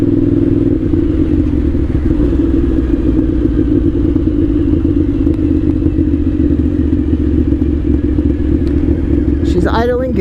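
A 1998 Suzuki TL1000R motorcycle engine idles steadily and close by, a constant low rumble running throughout with wind noise over it.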